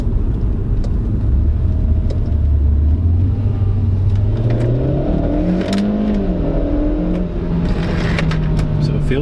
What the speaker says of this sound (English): we're going to try to test out the acceleration here